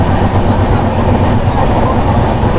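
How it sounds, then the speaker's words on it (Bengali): A fast-moving train rushes along in the evening with a dense, continuous rumble and rattle, loud and close throughout. "দ্রুত গতিতে ট্রেন চলছে সন্ধ্যের মধ্যে দিয়ে"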